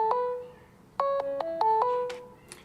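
A mobile phone plays a quick run of keypad dialing tones while a call is placed, several short stepped beeps in a rhythmic burst, clear and close with no talk over them.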